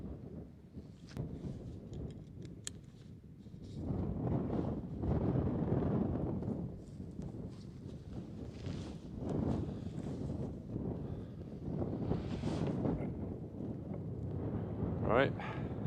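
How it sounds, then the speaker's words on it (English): Gusty wind roars outdoors in the Snowdonia mountains in uneven surges, rising and falling, with a few faint voices and scattered small sounds in between. "And it's windy as well."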